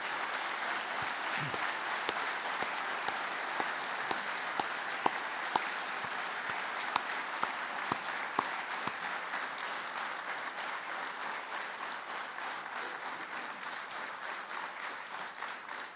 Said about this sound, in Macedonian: за еден посебен поздрав и аплауз